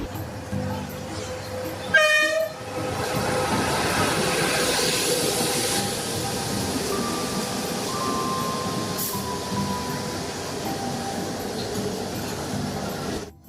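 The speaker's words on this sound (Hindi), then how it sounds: "और फाइनली ट्रेन आ गई।" A train pulls into a station with a short burst of horn near the start, then a long, steady roar of rolling wagons close by, with faint voices and station noise mixed in.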